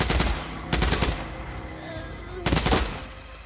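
Gun in a zombie survival game firing three quick automatic bursts, loud and close, each a short rattle of shots separated by pauses with faint game ambience between.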